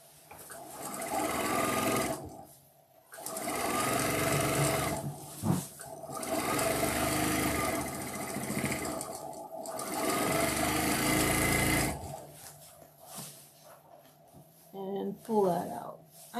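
Home sewing machine stitching fabric in several long bursts separated by short pauses, a steady mechanical whir near and loud, with a few clicks and handling noises between runs.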